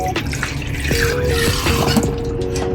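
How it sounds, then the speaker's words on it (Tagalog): Running tap water splashes steadily into a sink while ground meat is rinsed under it, with close, continuous gushing and a few sharper drips and splats, and no voices. "hugasan muna natin yung giniling"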